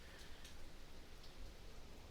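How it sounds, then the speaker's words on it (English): Heavy rain pours steadily over an outdoor soccer field during a tournament match, making a dense, even hiss that fills the whole stretch with no pauses. "the rain really starts to come down here"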